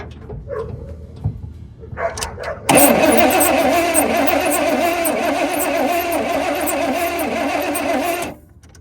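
A 1986 GMC Sierra truck engine cranks with a few short bursts, then catches and roars into a loud, steady run for several seconds before cutting off abruptly.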